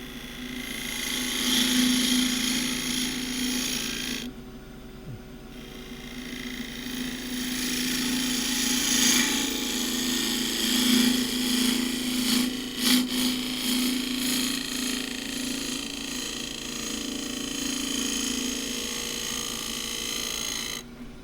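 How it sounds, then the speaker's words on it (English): A half-inch spindle gouge making a shear cut on a Himalayan cedar bowl spinning on a wood lathe at about 1800 rpm, a steady close whirring hum with a brief dip and scraping variations, no talk. "shear cut using the 1/2 inch spindle gouge, projecting the curve off the bottom of the foot."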